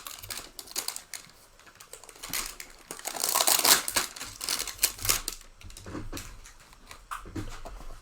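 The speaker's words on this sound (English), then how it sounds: "if you don't cut that the hanger plastic off all the way, they sure like to be a pain in the arse to open" Plastic wrapping is peeled and torn from a Panini Prizm football card hanger box, with close, irregular crinkling and crackling that swells in the middle and then comes in scattered bursts.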